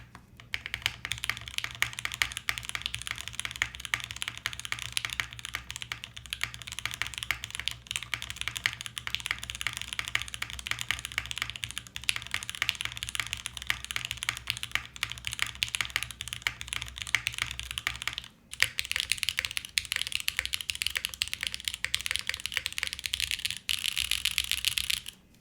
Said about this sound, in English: So this FUJI65 is the carbon fiber plate, Oil King.